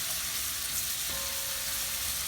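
Onions frying in a pan for yellow rice give a steady, soft sizzle with broadband hiss that runs unbroken, with a brief faint tone near the middle and no talking.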